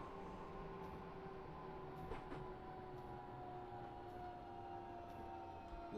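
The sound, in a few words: train braking into station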